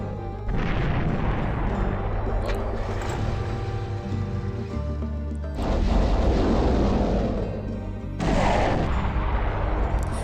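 Units firing in the Warhammer strategy game Final Liberation: Warhammer Epic 40,000: a run of loud, dense gunfire and booming artillery bursts. It plays steadily over a low drone, with heavier volleys surging in mid-way and again near the end, and no voices.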